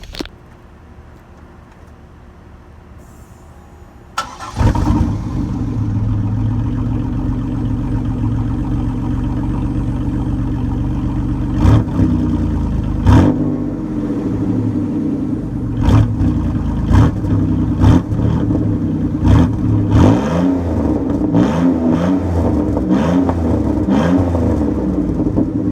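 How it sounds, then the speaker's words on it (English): A car's exhaust roars up from a quiet start into a loud, sustained engine drone, with repeated throttle blips and revs surging near and forceful over the engine note. "I just want to start this video off with an exhaust clip, because who doesn't love exhaust clips?"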